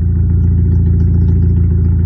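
A modified car with an oversized exhaust tip idles close up with a loud, steady low-pitched burble, its pulsing rumble unchanging and alone throughout.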